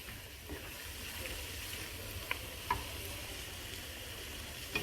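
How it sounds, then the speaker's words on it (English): Shrimp and squid stir-fry for Thai basil seafood (pad ga prao) sizzling steadily and quietly in the pan, with a few faint clicks of stirring scattered through. "Stir the shrimp and squid. Just stir it until the shrimp cook a little bit more."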